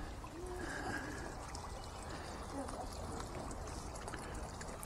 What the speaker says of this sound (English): I love the sound of water in the garden.